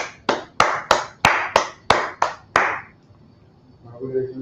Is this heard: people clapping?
yes